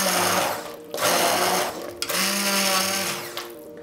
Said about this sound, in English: then you're going to whiz it with a processor